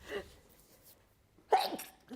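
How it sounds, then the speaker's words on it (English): A single sharp, close sneeze bursts out after a quiet pause, preceded by a faint breathy catch of breath. "I'm going to sneeze."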